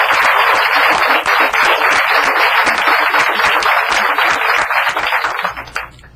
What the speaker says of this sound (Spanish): Un aplauso para ellos.